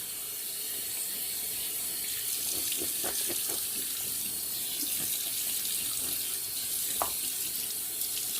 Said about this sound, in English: So now I'm going to wet the face and put on the Check and Speak number 88 aftershave.